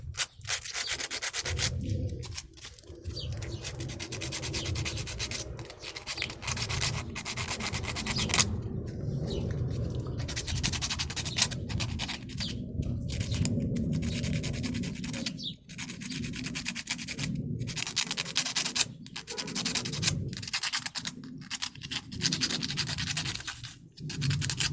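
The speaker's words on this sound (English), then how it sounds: "This is definitely the wrong sandpaper. I mean, it's rough like I need it" A metal hammerhead is sanded by hand with rough sandpaper. Close, continuous rasping strokes run for the whole stretch, broken by brief pauses between passes.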